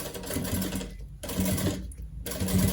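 A sewing machine backstitches along a crossbody bag in three close, rapid bursts of stitching, each separated by a short pause.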